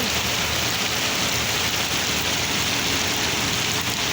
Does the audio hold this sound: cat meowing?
no